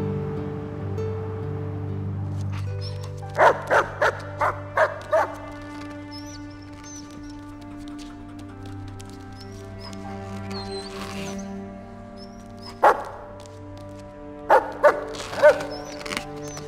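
A dog barks and yips in two short bursts of sharp, rapid yaps over a steady background hum, with a quieter stretch between them and no speech.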